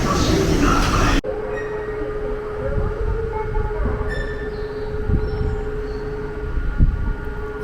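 A Tokyo train rolls along on the ride toward Shibuya, a loud continuous rumble of wheels on rails with a sustained squealing tone and occasional metallic clacks, preceded by a brief burst of louder noise.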